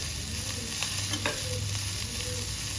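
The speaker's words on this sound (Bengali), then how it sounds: "সবজিগুলো সুন্দর ভাজা ভাজা মতন হয়ে গেছে" Chopped vegetables frying in a pan for masala bread upma, a steady soft sizzle broken by a few scraping stirs of a spoon, with no voices.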